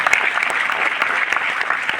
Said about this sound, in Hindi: अगर आपको भरोसा हुआ तो अपने लिए ताली बजा लीजिए एक बार बढ़िया से।